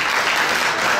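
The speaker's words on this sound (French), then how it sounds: "Vous pouvez continuer à applaudir" Steady, full applause from the audience at a live children's quiz match in Paris, a continuous dense patter of many hands.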